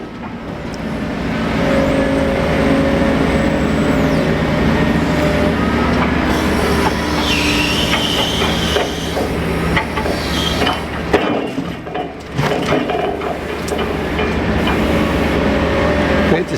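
Timber barge loading logs at Brodick pier, with a crane grab working: continuous heavy machinery drone, clanks and thuds of logs, and high mechanical whines and squeals, fairly close, with a log lorry nearby.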